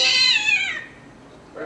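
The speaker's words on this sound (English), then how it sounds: "Right there went a cat." A cat gives one loud, drawn-out meow up close, fading out after under a second, with a faint click at the end.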